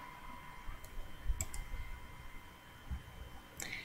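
A computer mouse clicks while Rhino 3D modelling software is in use: a few short, faint clicks spread out over a low, quiet hum, with no speech.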